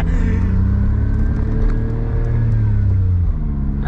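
A Suzuki Cappuccino kei car's engine drones loudly and steadily in second gear, pitch holding firm as it pulls under acceleration, with no talk over it.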